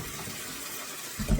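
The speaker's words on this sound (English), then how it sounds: "I take my celery stalks and I just run them under the water" Celery stalks rinsed under running kitchen tap water make a steady broadband hiss and splash, with a louder gush near the end.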